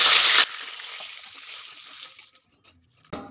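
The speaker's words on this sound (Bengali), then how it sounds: "ফোড়নে দিচ্ছি তেজপাতা আর কিছুটা গোটা জিরে।" Bay leaf and whole cumin drop into hot oil seasoned with a pinch of turmeric and salt for Bengali cabbage ghonto. A loud, hissing burst fades into a softer crackle, then a brief flare near the end.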